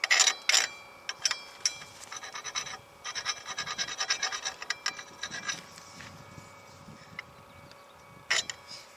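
A chisel scraping clay off a lump, close and dry, with repeated rasping strokes and short scratchy bursts of varying intensity, no talk.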